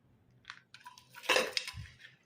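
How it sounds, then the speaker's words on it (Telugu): Jaggery is pounded coarsely in a kitchen. A few irregular knocks and clinks of metal utensils build to one louder crunching burst, then a dull thud. The sounds are close and fairly quiet, with no talking. "సో కొంచెం కచ్చాపక్కాగా దంచేసుకున్నాను."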